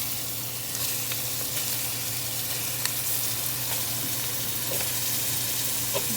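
A pound of ground beef fries in a cooked roux, giving a steady, close crackling sizzle broken by occasional faint stirring scrapes.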